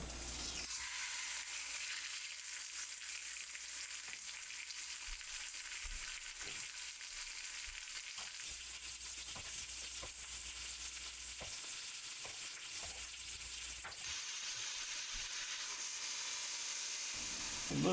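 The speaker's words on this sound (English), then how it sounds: "The steak goes in." Steak sizzles steadily in a hot pan, a bright continuous crackle that holds evenly and close for the whole stretch, with no voices over it.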